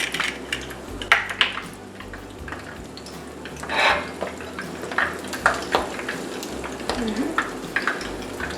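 Tunisian brik pastry with an egg inside frying in oil, a continuous bubbling sizzle punctuated by scattered clinks of a utensil against the pan, with a voice briefly heard.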